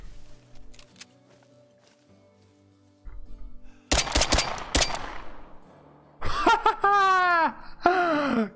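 Pistol shots ring out in the Call of the Wild hunting game, a few sharp cracks followed by louder reports and an animal's wailing cry, amid other game sounds.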